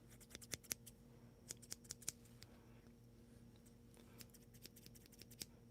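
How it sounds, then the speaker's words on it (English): Scissors snip repeatedly in quick, sharp clicks, some in bursts and some spaced apart, over a quiet steady hum, close up with no talking. "The scissor sound."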